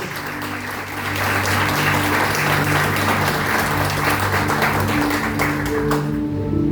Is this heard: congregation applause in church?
yes